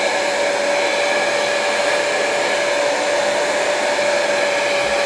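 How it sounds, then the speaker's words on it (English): A heat gun blows hot air while a bookmark is being made, a steady, loud whooshing hiss with a faint whine that holds unbroken from start to finish, no voices over it. "you're going to take your heat gun"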